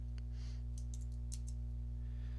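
Computer keyboard keys are tapped in short irregular bursts over a steady electrical hum, the clicks fairly close and light with no talk.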